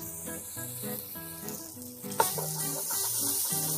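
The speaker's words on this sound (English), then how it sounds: "Really make sure that the tomato paste melts into the oil." Tomato paste and red pepper flakes are stirred into hot oil in a pot for Italian wedding soup, giving a close, steady sizzle with scraping stir strokes and one sharp clink midway, with no talk.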